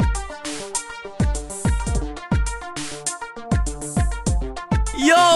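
Electro-style monster song from the video game My Singing Monsters, a close, punchy synth pattern of repeated bass hits and bright stabs in a steady rhythm, with a rising warble at the end and no talking.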